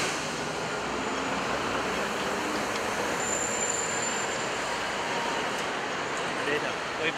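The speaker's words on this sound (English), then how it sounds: "Shot of tram passing HSBC." A tram rolls past a city street near an HSBC building, a steady broad rumble of wheels and traffic noise with a faint squeal, continuous and fairly close, with no gaps.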